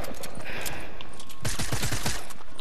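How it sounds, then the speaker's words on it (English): Drum gun firing in Fortnite Season 9, with dense rapid bursts of automatic gunfire over continuous game noise, the rattle growing heavier and more clustered in the second half. "He has a drum gun."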